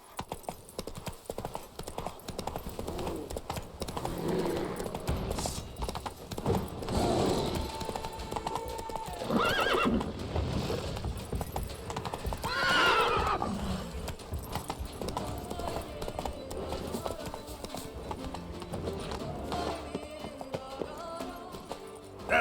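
Roach, a horse in The Witcher 3: Wild Hunt, gallops with steady, loud clip-clop hoofbeats that carry across the whole stretch, broken by a few neighs and whinnies partway through, over a constant game soundscape.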